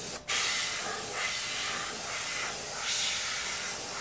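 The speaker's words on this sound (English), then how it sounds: "So I'll go in a circle when I spray them." An airbrush sprays black paint onto an RC car body as a steady, close hiss, rising and falling gently in pulses as the nozzle circles, with no talking.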